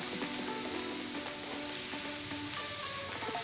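Paneer and coriander leaves sauté in a pan with a soft, steady sizzle and occasional stirring scrapes, quiet and close, with no talking.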